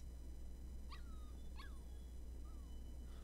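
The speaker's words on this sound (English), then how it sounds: "Ready for today's training, puppy?" A puppy in the video game Life is Strange 2 whimpers in two short rising yelps followed by a fainter whine, quiet and close over a low background hum.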